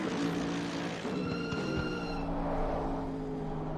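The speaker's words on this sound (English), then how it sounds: "you can really hear those brakes absolutely squealing" Racing cars in a PS5 racing game at Snetterton with high-pitched tire and brake squeals over engine noise, several piercing tones sliding in and out.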